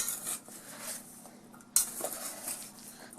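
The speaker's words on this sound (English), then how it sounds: "so I'll keep stirring it." A utensil stirs coated roasted garbanzo beans in a pan, giving soft scraping and rattling with a brighter clink partway through, close and fairly quiet with no voices.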